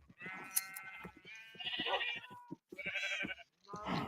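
Minecraft sheep give several close, wavering bleats in a row, some drawn out and some short, with brief quiet gaps between them.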